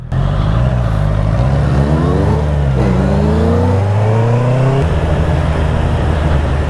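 A car engine revs hard through its exhaust, with no muffler, climbing in pitch, up close and loud, with gear changes as it accelerates steadily.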